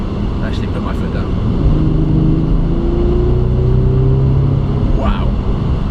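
A car accelerates hard as the throttle is floored, engine rising in pitch through a sustained loud roar, with a person talking over it.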